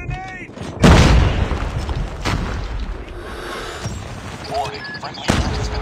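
Grenade blast in Call of Duty: Mobile team deathmatch, a loud close boom followed by further bangs and gunfire amid game noise and voices.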